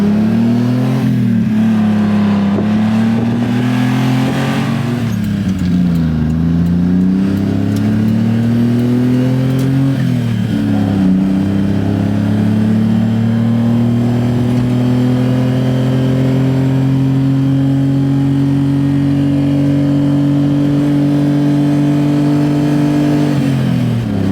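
A Honda Acty mini truck engine with a new Giga N1 exhaust drones steadily while driving, its pitch rising and falling through several gear shifts, loud and close throughout with no talking.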